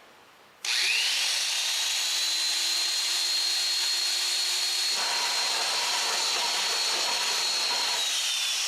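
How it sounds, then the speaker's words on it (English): A drill starts abruptly and runs steadily for several seconds boring a pilot hole, its pitch dipping slightly midway as the bit bites into the material, loud and close. "We're only going to drill a pilot hole."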